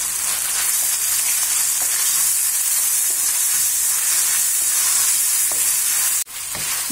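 Meat, tomato, onion and garlic frying in a pan for Uyghur lagman, a loud, steady close sizzle with faint stirring scrapes, cut off by a sharp clack near the end.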